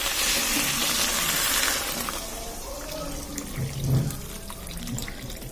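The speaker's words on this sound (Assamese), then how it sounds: "এতিয়া ইয়াত দি দিম গৰম পানী" Hot water pours into a pan of curry with fried potatoes and brinjal, a bright splashing rush at first that settles into a lower bubbling gurgle, fairly close and with no talk.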